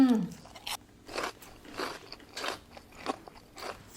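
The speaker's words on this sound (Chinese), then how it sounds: "让我们一起来尝一下" Close bites into a crispy, scale-textured fried chicken wing in KFC-copycat style, producing a series of sharp crunches at a steady rhythm with quiet gaps between them.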